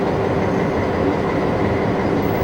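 A White Pass & Yukon narrow gauge train rolls along the rails near Skagway, giving a steady, close rumble of wheels and cars with no voices.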